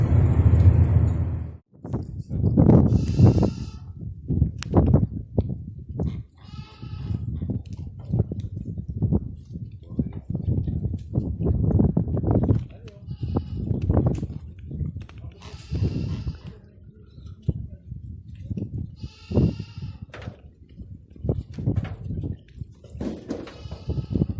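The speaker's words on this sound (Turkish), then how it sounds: "Az önce anlattığım keçiler bunlar." Goats from an animal market bleat repeatedly at a Turkish village, several loud nearby calls with quieter ones between, over shuffling and background noise.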